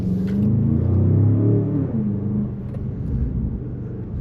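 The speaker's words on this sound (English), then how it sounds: "It has a nice little burble overrun as well when you take your foot off the accelerator." A 2024 Range Rover Sport SV Edition One with a 626-horsepower engine gives a loud, close, low rumble that swells and then eases off the throttle into a softer, uneven burble, with no talking.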